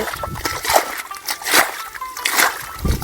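Irrigation water splashes in bursts onto a rice paddy in a village field, loud and close, with a few sloshing surges and faint background voices.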